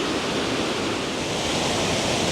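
A small Yorkshire waterfall pours in a steady, unbroken rush of broadband water noise, close and loud, with no voices.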